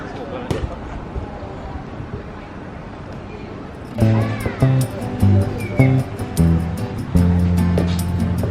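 Surf washes onto a beach in Langkawi, Malaysia as a steady broadband rush. About halfway through, intermittent tonal sounds and clatter join the waves.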